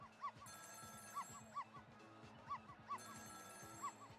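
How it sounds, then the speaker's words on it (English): A telephone ringing in the neighbouring apartment, heard as a faint, repeated electronic trill in short bursts that keep going throughout, with no talking. "Sound of telephone ringing coming from the apartment next door"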